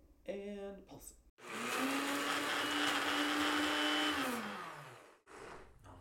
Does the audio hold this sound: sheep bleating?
no